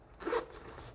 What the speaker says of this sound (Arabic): دي السوستة الأولى